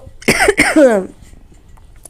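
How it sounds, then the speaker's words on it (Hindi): A single hoarse cough from a woman with a cold bursts out, quickly followed by a second, longer rasping cough, then quiet. "लेकिन मुझे ना खांसी हो गई।"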